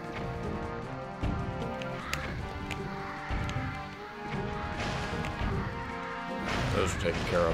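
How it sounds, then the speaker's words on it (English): Cannons blasting one another in The Legend of Zelda: The Wind Waker, heard as repeated crashing, thudding impacts over dense game music and effects, with a louder burst near the end. "Oh, I can get the cannons to destroy each other."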